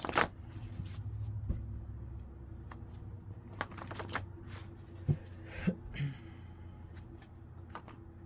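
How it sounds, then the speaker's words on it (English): Soft riffling and tapping of plain paper note cards shuffled close by as an oracle deck, with a few sharper snaps, over a low steady background hum. "I try to be careful shuffling these because they're just note cards"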